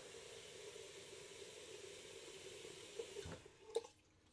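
Tap water runs steadily into a sink while a Vapok steam cooker is rinsed and refilled, a soft continuous hiss with a few clinks and splashes near the end.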